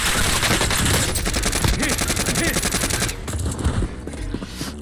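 Rapid automatic gunfire on Rebirth Island in Call of Duty Warzone rattles on continuously, loud and near, with overlapping bursts that ease slightly toward the end.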